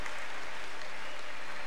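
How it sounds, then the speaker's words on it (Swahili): Church congregation applauding together in steady, dense clapping that fills the whole moment, loud and continuous with no break. "Makofi kwa Bwana Yesu kwa ajili ya hawa."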